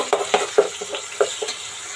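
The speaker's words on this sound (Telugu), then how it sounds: "ఇందులోనే ఒక స్పూన్ అల్లం వెల్లుల్లి పేస్ట్ కూడా వేసుకుందాం మనం ఇవి కూడా బాగా వేపుకుందాము" Ginger garlic paste fries in a pan for pulao, with a soft sizzle broken by several sharp scrapes and clinks of a spoon stirring against the metal, close and alone without speech.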